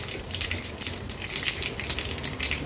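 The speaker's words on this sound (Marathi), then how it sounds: "पांढरे तीळ पण थोडेसे तडतडले" White sesame seeds sputter in a hot-oil tempering for a no-onion, no-garlic vegetarian meal, giving a continuous fine crackle of small pops, close and moderately loud, with no talking.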